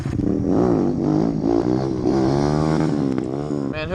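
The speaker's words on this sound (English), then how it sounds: "Man, whoever's bike that is, I'm jealous of their exhaust." A motorcycle with an aftermarket exhaust revs nearby, its engine note rising and falling in loud, sustained sweeps with a rough, throaty tone across the whole stretch.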